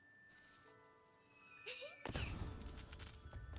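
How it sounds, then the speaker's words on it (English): Fireworks in the video game World of Jade Dynasty: a rising whistle climbs over a soft tonal background, then a loud burst breaks out and crackles on, close and alone with no voices. "Nothing more to add, just fireworks."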